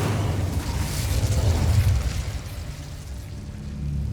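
An Incendio fire spell is cast in Hogwarts Legacy: a loud whooshing burst of flame that swells over a couple of seconds, then fades into a softer lingering rumble.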